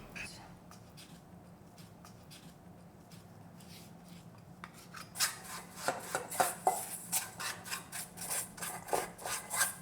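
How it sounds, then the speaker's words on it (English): A wooden spoon scrapes and rubs through a honey and omija dough in a bowl for Korean dasik pressed cookies, starting faint and then turning into louder, rhythmic scraping strokes, with quiet talk early on. "So use your wooden spoon first, or just mixing, and then use your hand"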